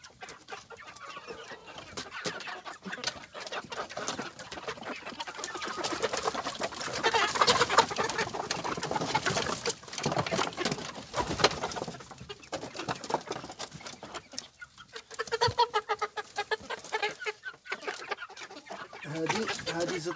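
Free-range crossbred chickens, a mix of local and commercial breeds, clucking and chattering close by on a farm, with calls running throughout and someone talking over them at times.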